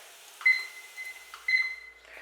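An Anko pie maker timer gives two short electronic beeps about a second apart, each followed by a thin sustained tone, heard close and fairly quiet.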